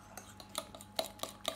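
A spoon stirs pumpkin cake batter made with flour in a bowl, giving soft scraping strokes and several light clinks against the bowl in an irregular rhythm, close and quiet.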